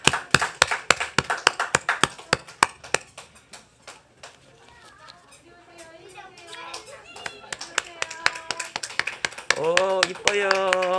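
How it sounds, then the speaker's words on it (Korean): Congregation clapping in a church to welcome a Sunday school group's special song at a Korean Sunday service: brisk, scattered claps for about three seconds that thin out, followed by soft children's voices and light tones. "우리 큰 박수로 환영해"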